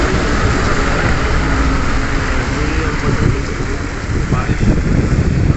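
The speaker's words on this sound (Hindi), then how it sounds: "तो बारिश भी हो रही है" Rain falling on the Battery Cheshma stretch of the Ramban highway, a steady dense hiss that stays even throughout, with someone speaking over it.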